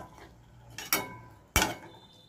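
A lid set down on a pot of potato and Bombay duck curry, giving two sharp metallic clinks about half a second apart, close and fairly loud over faint kitchen background.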